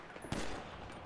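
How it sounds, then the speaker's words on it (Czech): Gunfire in a roleplay video game, a single sharp shot followed by a fading tail, faint overall against a quiet background. "střílí se tu všechno"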